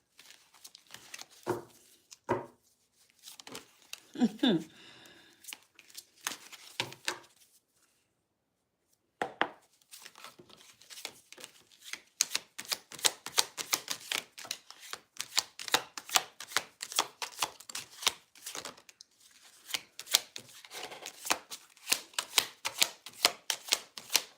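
Tarot cards are shuffled by hand in a quiet room, a few scattered riffles and taps at first, then a pause, then a long run of rapid, fairly close flicking and snapping that carries on to the end.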